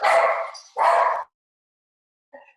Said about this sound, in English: My dogs are about to bark.